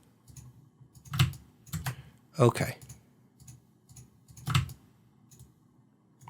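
Computer keyboard typing with keys starting to stick, giving a run of loud, separate key clacks amid faint clicking, with a voice briefly speaking.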